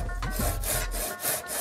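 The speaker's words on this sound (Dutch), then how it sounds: "En de kunst is om de zaag het werk te laten doen." A hand saw cuts through wood for a children's playhouse, making loud, close, rasping back-and-forth strokes in a quick, even rhythm with no talking.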